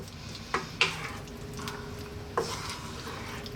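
Spoon stirring a pot of pumpkin coconut curry just after a handful of cilantro goes in, giving a few soft scrapes and clinks against the pan over a quiet, steady background.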